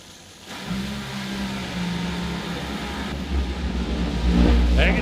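A Top Fuel Funny Car engine during a qualifying drag run, a deep, loud rumbling roar that swells and grows more intense toward the end, with faint background voices.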